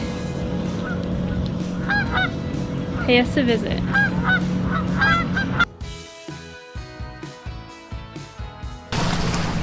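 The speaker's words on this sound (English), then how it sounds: "These birds decided to swim by." Geese honk repeatedly in uneven bursts while swimming past on Lake Hartwell, over steady background noise, with a brief spoken phrase near the start and the calls fading out toward the end.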